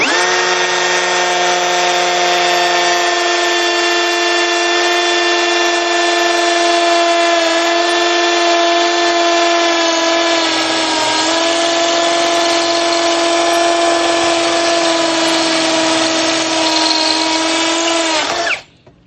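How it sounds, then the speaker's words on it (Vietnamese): A Hukan 1065P hammer drill with an 8 mm bit bores through a solid brick wall, a loud, continuous high whine that runs for nearly twenty seconds before stopping abruptly. "đây khoan xuyên gạch luôn này"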